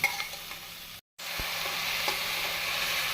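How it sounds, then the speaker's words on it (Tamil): Soaked meal maker sautés with onion and tomato in a hot pan, giving a continuous close sizzle with faint stirring scrapes, broken by a brief dropout of silence early on, with no voices. "நாம் மீல் மேக்கரை வெங்காயம் தக்காளியுடன் நன்றாக சேர்த்து வதக்க வேண்டும்"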